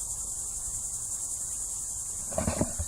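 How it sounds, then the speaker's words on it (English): Dense insect chorus of cicadas in a Florida pine forest, a steady high continuous buzz filling the whole span, with a brief louder rustle or thump near the end. "Not sure if you guys can hear the cicadas here, man. Oh my goodness, it's like a symphony of sound in here."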